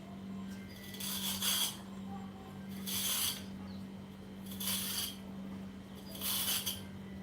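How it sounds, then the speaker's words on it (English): A fork scraped along the skin of a cucumber in four evenly spaced rasping strokes, each about half a second long, over a steady low hum, close and moderately loud with no talk. "Just like rubbing it with a fork like this."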